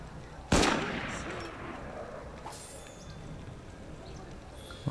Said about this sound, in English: What was all that shooting for?